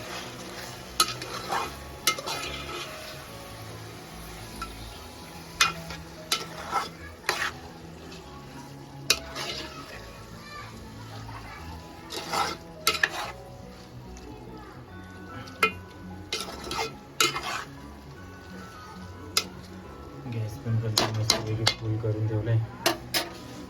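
Prawns stirred and fried in a pan over a wood-fired stove, a soft continuous sizzle broken by repeated clinks and scrapes of a utensil against the pan, louder stirring near the end, no voices.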